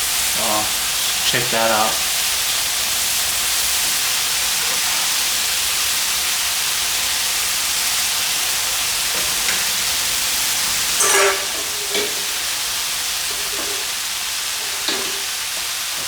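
Squid tentacles stir-fried with other ingredients in a hot pan, a steady loud sizzle running throughout with occasional clinks and scrapes of stirring, and a brief spoken remark.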